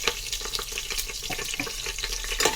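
Whole cinnamon, cloves, green cardamom and black cardamom frying in refined oil for ghee rice, a soft continuous crackling sizzle with small pops, heard close and fairly quiet.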